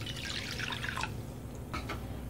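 Water is poured into a glass for a sattu sharbat, a short splashing trickle with a few drips after it, close and fairly quiet, with no talk.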